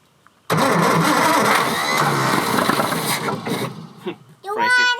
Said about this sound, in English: he is the one that needs to test fire the engine